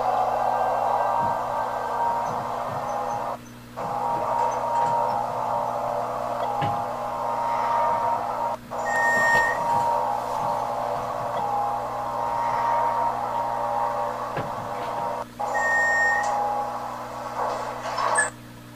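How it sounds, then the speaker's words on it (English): A Kone hydraulic elevator motor at a shopping mall drones steadily for nearly twenty seconds, a constant hum with hiss above it, with a few brief dips and faint beeps along the way. "Let's listen to this motor."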